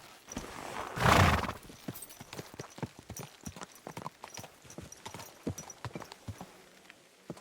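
Video-game horse hooves clip-clop in a steady walking rhythm in Kingdom Come: Deliverance II, with a loud horse whinny early on and no voices.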